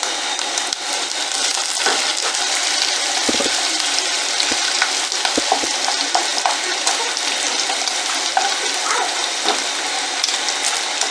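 Garlic fries in hot oil for Kenyan mung beans, giving a dense, steady sizzle close by, broken by a few soft knocks and stirring clinks.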